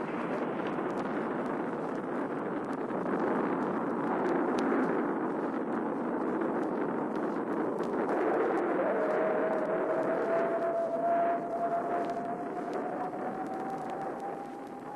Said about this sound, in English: Liftoff. We have a liftoff.